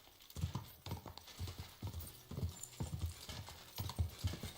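A horse's hooves clip-clop in a video game: quick, fairly faint clusters of hoof knocks in an uneven trotting rhythm, with no talk.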